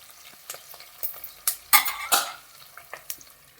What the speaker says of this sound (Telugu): పచ్చిమిర్చి, ఉల్లిపాయలు బాగా ఎర్రగా వేయించుకుందాం